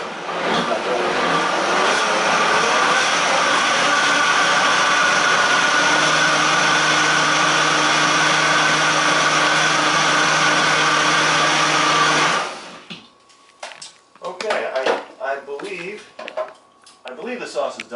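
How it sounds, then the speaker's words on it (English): Blender whirring steadily at a medium setting while blending a creamy raw curry sauce, a loud continuous drone that cuts off abruptly, followed by clattering and handling sounds. "I only need really a 5 on this particular blender."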